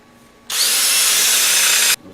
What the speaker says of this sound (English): Let's pre-drill some holes.